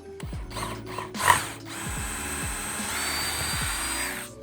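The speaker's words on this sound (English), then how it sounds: "I'm just gonna drill with a bit that's just slightly smaller than my screw." A power drill pre-drills a pilot hole in wood with a bit slightly smaller than the screw, giving short ratcheting bursts and a rising motor whine near by.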